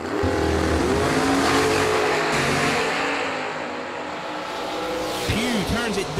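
Drag race launch of a Mustang and a Camaro at an old-school bracket race, loud roaring engines with revving and tire noise throughout, a track announcer speaking over the din.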